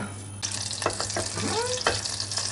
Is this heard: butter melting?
yes